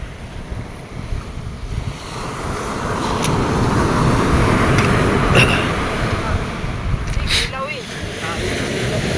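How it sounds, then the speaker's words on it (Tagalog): Large sea waves rush and surge steadily around a boat out on the water, a broad, roaring wash mixed with heavy wind buffeting the microphone, loud and continuous throughout. "Oy, lalaki man ang alon man."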